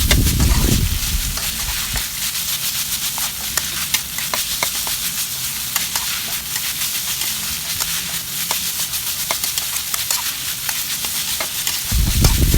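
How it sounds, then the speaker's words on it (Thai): Minced pork with holy basil dry stir-fried in a wok over medium heat with no added water, a continuous loud sizzle broken by frequent scraping and tossing clatter from the spatula, close up and without voices. "ก็ผัดไปเรื่อยๆนะคะ ผัดแบบแห้งๆนะคะ"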